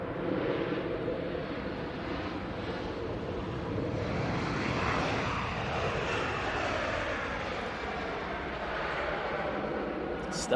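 A Virgin Atlantic airliner on approach to Manchester Airport, a steady broadband jet roar that swells and holds across the clip, with wind buffeting the microphone and people talking faintly underneath.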